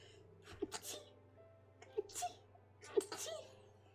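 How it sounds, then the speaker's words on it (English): A voice-acted sneeze from a Final Fantasy XIV cutscene, heard as three breathy, building bursts spaced about a second apart, close and clear over a soft steady backing hum. "I'm gonna sneeze."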